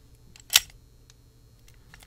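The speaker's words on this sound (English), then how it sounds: "If you were to simply retract the latch bolt on the inside," TownSteel front door lock latch bolt retracting, a single sharp metallic click close up, brief and crisp against a quiet background.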